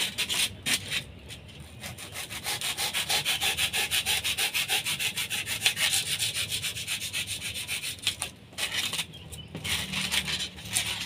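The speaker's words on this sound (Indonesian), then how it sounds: "Jadi fungsinya ini amplas ini adalah untuk mengasah." A cutter knife blade is sharpened by rubbing it on sandpaper, producing repeated rapid rasping strokes in steady rhythmic bursts, close and dry, with brief pauses between passes.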